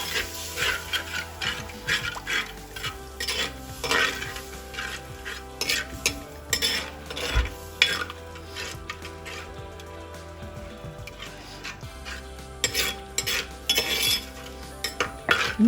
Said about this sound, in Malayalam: ഇനി ഇതെല്ലാം ഇളക്കി യോജിപ്പിക്കാം.